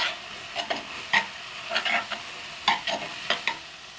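Onions and garlic frying in a pan, soft steady sizzle broken by irregular stirring scrapes and bursts, close and moderately quiet, with no talk.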